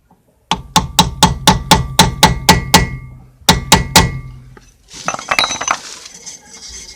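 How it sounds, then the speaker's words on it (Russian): Hammer and ordinary chisel strike in short, sharp metallic blows, staking the rear wheel hub nut of a ZAZ Tavria or Slavuta: a fast run of about ten ringing hits, a pause, four more, then softer scraping clinks, loud and close. "на канавках короткими ударами зашплинтовываем гайку"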